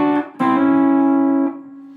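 Short electric guitar lick played close and alone: a picked note, a quick restrike, then a sustained bar note that rings on and fades, with no talking.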